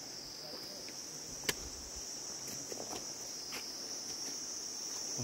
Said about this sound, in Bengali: ঝিঝি পোকা ডেকে যাচ্ছে খালি